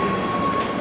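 A metro train at Ottaviano station in Rome, a loud, close, continuous rumble with a faint high whine over it.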